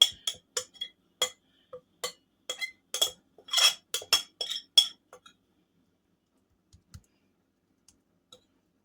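A spoon stirs and mashes a homemade pine incense mixture in a bowl, giving close, irregular clicks and taps that cluster densely for about five seconds and then thin out to a few scattered knocks.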